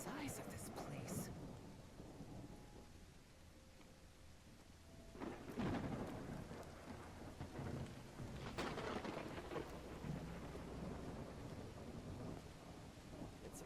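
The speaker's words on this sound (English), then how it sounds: "It's raining cats and dogs here" Steady heavy rain pours in the Lovecraftian video game Call of the Elder Gods, with deep rolling thunder swelling around the middle and again a few seconds later, no voices present.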